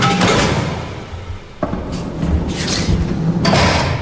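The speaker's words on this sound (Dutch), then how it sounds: "We gaan nu weer door de zware deuren naar buiten." Heavy doors inside a prison open and close, with a sharp clanking thud partway through amid scraping, shuffling movement and a dull, echoing room tone.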